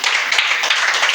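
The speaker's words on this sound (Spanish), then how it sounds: "Dale ese fuerte aplauso." Brief burst of congregation clapping in a church, loud and dense, lasting about a second.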